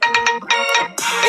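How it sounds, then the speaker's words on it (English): A phone ringtone plays loud and close, a short melodic electronic tune in three bright bursts with brief gaps between them. "ringtone."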